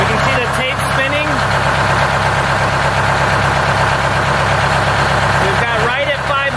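A vintage Detroit Diesel bus engine idles steadily at about 505 RPM, a loud and constant low diesel rumble close by with no break, and brief talk over it near the start and end.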